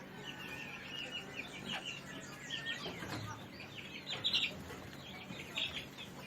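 Mixed flock of chickens eating fermented feed, with soft scattered clucks and chirps over a low background murmur at moderate distance.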